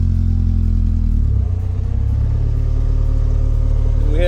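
A car with a K24 engine idling and then pulling away in gear, a loud steady low engine drone close by that shifts pitch slightly as it moves off.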